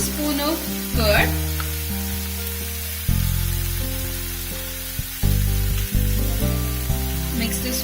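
Curd and ginger garlic paste hit frying onions for butter chicken, a loud close hiss that flares with each addition and stays as a constant sizzle throughout, under a low tonal backing.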